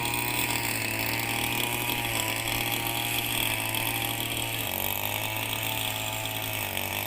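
A blade-type grass cutter with a small engine cuts through rice plants in a paddy field, its loud, steady engine drone holding throughout with a slight dip in pitch partway, near and without talk.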